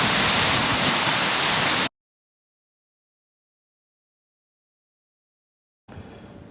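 An Icelandic waterfall roars loud and steady for a couple of seconds, cuts out abruptly to silence, then comes back more faintly near the end.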